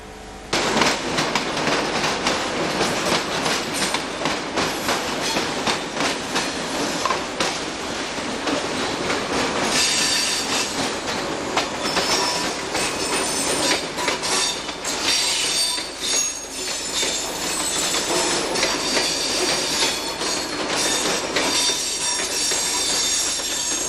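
Train pulling into platform 3 at North Sydney station in 1990, loud and close, with continuous rumbling wheels, clattering and sharp squeals of wheels on rail, no talk.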